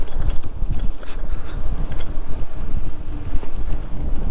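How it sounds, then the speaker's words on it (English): Strong, gusty wind roars steadily into an outdoor microphone on a blustery day, a loud, continuous buffeting rumble with no one talking. "Boy, that wind is something."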